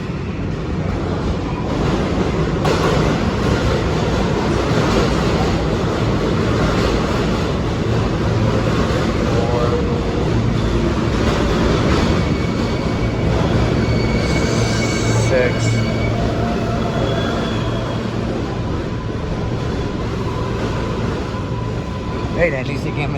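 A New York City L subway train pulls into a station, a long loud rumble of wheels and cars with some squealing and clatter building and fading, while people talk faintly in the background.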